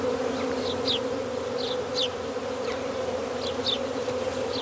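A honey bee swarm of around 10,000 bees buzzes steadily around a straw skep, with a constant close droning hum and brief higher insect whines flitting past throughout.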